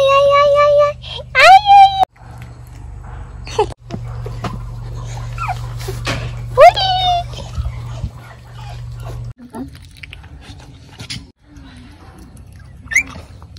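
Newborn puppies from a neighborhood dog's litter whimper and squeal in high, close cries, with a steady hum underneath and a few scattered bumps and faint sounds between the whines.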